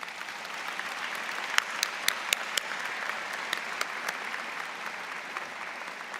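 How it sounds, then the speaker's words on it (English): Graduates applaud university faculty and staff at a spring convocation ceremony, an even wash of clapping from a large crowd, moderately loud, with a few sharper individual claps standing out near the middle. "Graduates, may I ask you to please join me in a round of applause for the MRU faculty"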